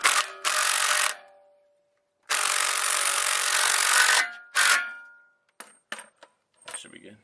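An impact wrench drives the half shaft bolts on a DSS half shaft install, firing three loud rattling bursts, the middle one longest, followed by a few light metallic clinks.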